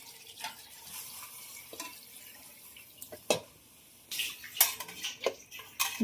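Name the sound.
pouring water into pressure cooker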